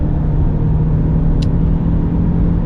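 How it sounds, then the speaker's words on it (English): A 2020 Range Rover Evoque SE with a four-cylinder engine accelerates gently, heard from inside as a steady low engine hum and road rumble, with one brief click partway through. "doing kind of like a mild acceleration, it is relatively good"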